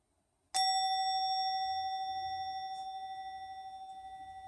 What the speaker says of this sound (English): Just because I love this bell.